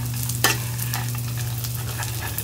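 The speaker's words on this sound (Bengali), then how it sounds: "এর সাথে বাদামটা একটু ভেজে নেই" Peanuts frying in mustard oil give off a steady, close sizzle with a low hum underneath and one sharp crackle near the start, and nobody speaks.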